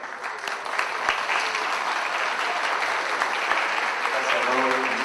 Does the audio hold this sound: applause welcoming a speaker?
yes